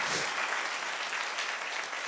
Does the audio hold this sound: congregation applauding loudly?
yes